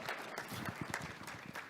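An audience at a networking event for the cultural and creative industries applauds, a steady wash of clapping that stays fairly even over a short stretch.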